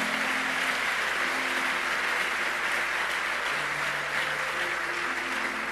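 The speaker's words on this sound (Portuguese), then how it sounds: "Aplauda Jesus aí." Church congregation applauding in praise, a steady, even wash of many hands clapping heard from some distance, with a faint sustained musical tone underneath and no speech.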